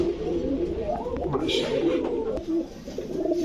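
Kamargar pigeons at a pigeon sale in Bangladesh give soft, low cooing calls that repeat through a busy market background, with voices talking nearby.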